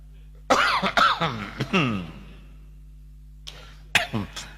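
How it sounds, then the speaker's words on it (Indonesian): A person coughs several times in a quick fit, pauses in near silence, then coughs twice more, close and clear. "Alhamdulillah saya juga dikasih batuk."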